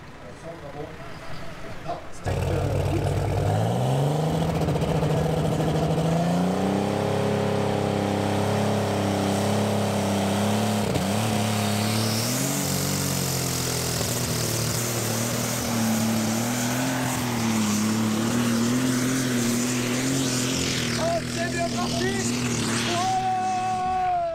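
A loud tractor engine roars and revs steadily, its pitch climbing and wavering as it strains under load, with voices faintly mixed in.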